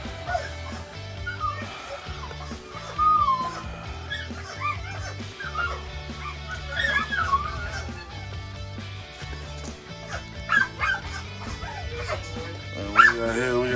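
Several American Bully puppies whine and whimper in high, wavering cries over steady music, with a person talking nearby.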